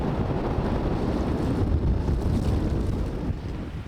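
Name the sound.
strong east wind blowing over a boat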